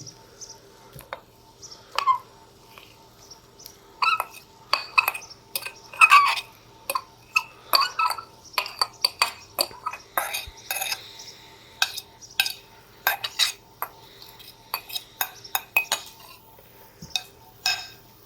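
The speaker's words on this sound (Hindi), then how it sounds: "ये आलू हैं, ये मैं मैश कर रही हूँ।" Boiled potatoes are mashed in a bowl for a halwa poori meal, giving repeated clattering and scraping of a utensil against the dish. The strokes are close and come in uneven bursts over a quiet, faintly humming background.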